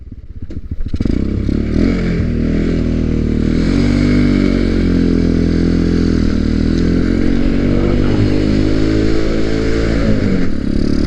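A Boom Vader motorcycle running with stock jets and a carburetor upgrade kit, a steady loud engine idle with a low throbbing drone that starts abruptly and holds constant, with no talk.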